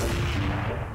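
Gunfire in the Roblox video game, with a continuous dense burst of shots over a low rumble, loud and steady through the whole second.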